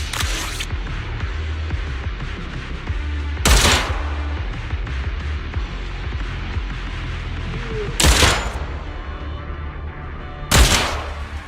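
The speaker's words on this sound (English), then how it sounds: "Hold R2 for rapid fire. Rapid fire has a higher fire rate, but deals lower damage." Rapid-fire gunshots in the action game Zenless Zone Zero form a dense, continuous stream of loud, crackling fire. Sharper bursts punch through at intervals, with no talk over it.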